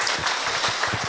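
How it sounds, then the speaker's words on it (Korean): A church congregation applauds together, a brief burst of dense, steady clapping filling the moment. "박수하겠습니다"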